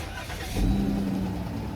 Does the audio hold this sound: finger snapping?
no